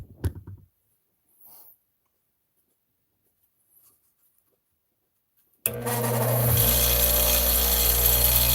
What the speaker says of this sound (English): Let's go ahead and just grind this one away.